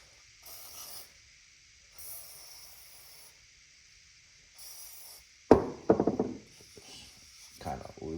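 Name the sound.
spraying WD-40 lubricant on a bike part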